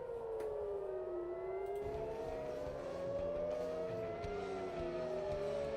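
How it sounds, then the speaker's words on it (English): Air raid sirens sounding in Israel, a wailing tone rising and falling in long, slow sweeps, heard steadily at moderate distance with a second siren layered underneath. "Again, I'm hearing sirens."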